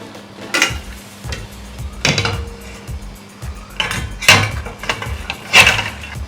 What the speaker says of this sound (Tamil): இப்போ இதை வந்து ஸ்டீமருக்குள்ளே எடுத்து வச்சிடலாம்